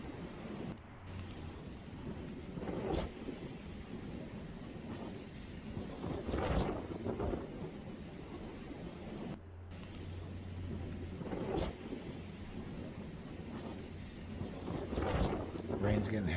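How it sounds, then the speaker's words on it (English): Heavy rain and gusting wind from Hurricane Ian in the Carolinas, a constant dense roar with rumbling surges and wind buffeting the microphone, while voices talk faintly underneath. "Rain's getting heavier."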